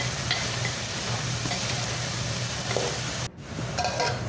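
Ridge gourd with turmeric and salt is stirred in a hot pan, giving a steady sizzle with scraping and soft clinks of the spoon against the pan, and a brief break partway through.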